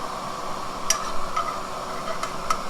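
Spoon stirs butter into a pork pan sauce: faint simmering sizzle under a few light scrapes and clicks of the utensil against the pan, with no talking.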